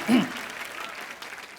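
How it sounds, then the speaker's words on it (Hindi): Studio audience applause on a televised comedy show, a short burst of clapping that swells briefly near the start, then settles into a softer, steady patter. "कुछ भी नहीं कहना फिर भी ताली और हंसी।"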